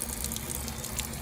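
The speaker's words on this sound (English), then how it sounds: "When I turn it on it leaks right out of" An old wall-mounted basement faucet runs steadily, leaking at its valves, giving a continuous broadband hiss of flowing water that is fairly loud and unbroken throughout.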